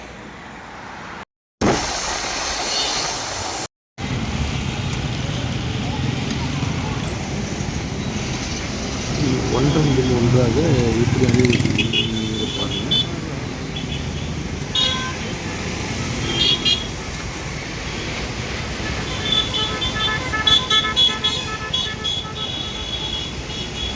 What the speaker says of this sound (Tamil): ரெண்டு நிமிஷத்தில் ஏழு பஸ்ஸு பயணிக்குது